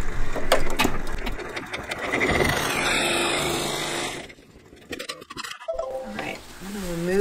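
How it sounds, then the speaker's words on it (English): Brother PR1055 embroidery machine stitching a quilt block, a steady mechanical whir and rapid needle chatter running loud and close through most of the stretch, dropping away near the end as a voice starts talking. "I'm going to touch embroidery and lock"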